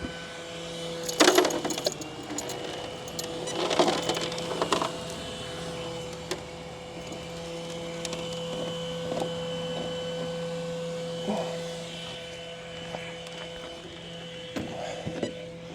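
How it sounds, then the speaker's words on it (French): A steady mechanical whir of a Honda Vario scooter's cooling fan with a constant hum runs throughout, broken by a few faint clicks and rattles. "Le ventilateur du Vario il tourne"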